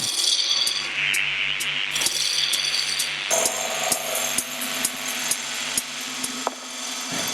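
Wood lathe turning tenons on a cedar blank, a close whirring motor hum under scraping cuts with frequent sharp ticks and taps.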